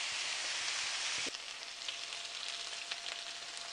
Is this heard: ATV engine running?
no